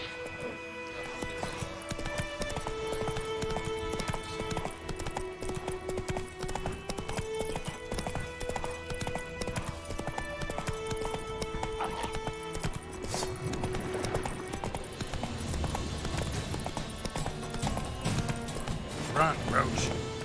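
Horse hooves clip-clop at a steady gallop in The Witcher 3 video game, set under continuous game music and a voice talking through the scene.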